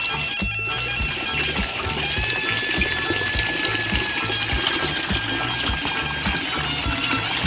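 Water pours and gushes steadily into a goldfish pond bio filter, a continuous close splashing rush driven by a pump, with a low rhythmic churn beneath it.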